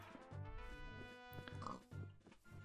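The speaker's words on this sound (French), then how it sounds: "Ah, il y a un cochon dans l'arbre." Minecraft pig grunting and oinking in a short run of close, repeated snorts with brief gaps between calls.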